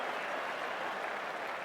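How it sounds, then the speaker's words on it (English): Australian cricket fans in a stadium crowd applaud during an Ashes Test between Australia and England, a dense, even wash of clapping that holds steady from start to end with no distinct voices. "And the Aussie support are up. They're clapping."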